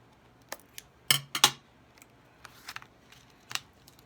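Scissors snipping handmade paper: a few quiet, scattered sharp cuts and snips, two louder close ones near the start, with light handling clicks between them and no talking.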